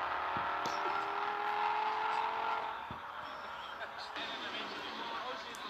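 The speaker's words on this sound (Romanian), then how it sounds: "Următorul este un Audi foarte frumos" An Audi car engine revs and accelerates, giving a sustained loud roar for about three seconds before easing to a lower, steadier hum, with voices faintly underneath.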